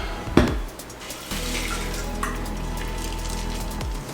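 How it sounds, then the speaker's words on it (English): Liquid for a cocktail poured in a steady stream, opening with a sharp clink, then a continuous gurgling flow that holds evenly before stopping abruptly near the end. "That's a great pour."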